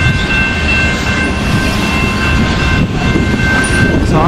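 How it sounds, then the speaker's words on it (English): A moving train rumbles loudly and steadily along the tracks, a dense continuous roar up close with no pauses. "Here we go, the train is still moving,"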